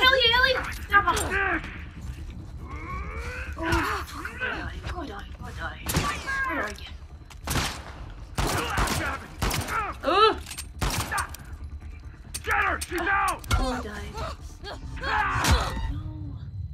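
Gunshots ring out in The Last of Us Part II, scattered sharp blasts breaking through frequent excited talk and shouting over the game.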